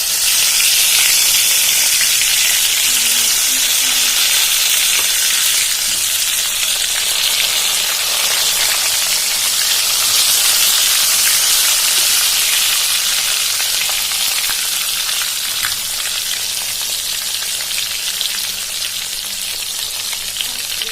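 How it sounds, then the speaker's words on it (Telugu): Brinjal frying in hot oil with mustard seeds, chilies and curry leaves, a steady loud sizzle with occasional stirring, continuous and close with no talk. "తర్వాత ఆవాలు, మిర్చి, కరివేపాకు ఇలా బాగా వేగిన తర్వాత వంకాయ వేసుకోవాలండి."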